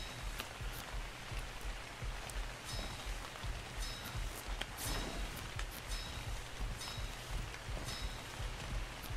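Steady rain patters on surfaces in the video game Ark, a dense continuous hiss with scattered sharper drops and a low rumble underneath, holding even for the whole stretch.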